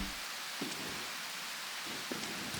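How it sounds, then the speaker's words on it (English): Steady rain hiss inside the video game Prologue: Go Wayback!, a broad, even wash of falling drops with a couple of faint brief knocks, heard alone without voices. "I gotta hurry and do this because it is raining."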